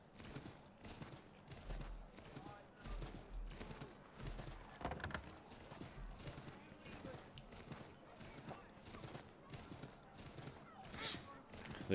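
Horse hooves clip-clop steadily in the Assassin's Creed 3 game world, a rhythmic trot of repeated thuds with low rumbling beneath and scattered ambient game sounds.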